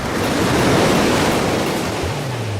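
Sea waves washing onto a beach, a loud, continuous broadband roar of surf with steady rushing wash and a low rumble underneath, no voices.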